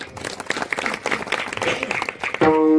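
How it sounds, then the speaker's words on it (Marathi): An audience at a kirtan in Vasari claps for about two seconds, a dense patter of many hands, then breaks off as a sustained musical tone begins. "त्यांच्यासाठी एक सुंदर टाळ्या वाजवा"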